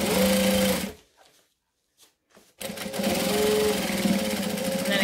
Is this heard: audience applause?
no